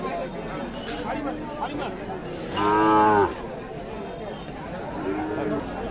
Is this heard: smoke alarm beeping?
no